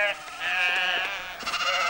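A sheep bleats in a long, wavering, nasal cry, close and fairly loud, rising again toward the end, with faint background sound but no clear talk.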